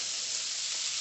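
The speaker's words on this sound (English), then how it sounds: "so that you can sear them really good on, on each side" Orange BBQ ribs searing in a hot pan, a loud, even, continuous sizzle up close with no pauses.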